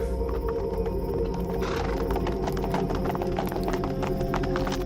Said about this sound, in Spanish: Caballos cargados con combustible de contrabando cruzan la frontera al lado colombiano.